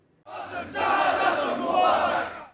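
A large crowd of Hezbollah members and supporters in Beirut shouts in unison, a loud, angry chant rising abruptly and holding at full volume.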